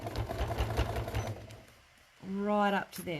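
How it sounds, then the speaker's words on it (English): A sewing machine stitches a folded star trivet in a quick, close run of rapid mechanical pulses, then stops while someone speaks briefly. "Stitch up to there, move it right up to the corner,"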